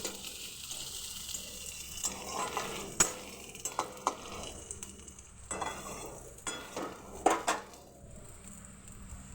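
Oil sizzles in a pan as onion, garlic, dried chillies and five-spice seeds are fried and stirred, with intermittent scraping and clinks of a utensil against the pot.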